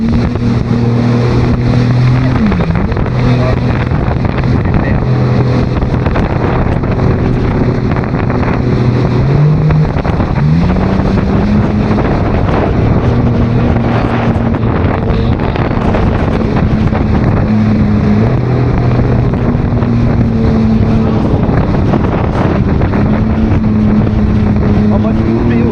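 Jet ski riding on the sea off Guadeloupe, a loud steady engine drone with shifting pitch throughout, buffeted by wind noise, with voices talking over it.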